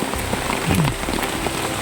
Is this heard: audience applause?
no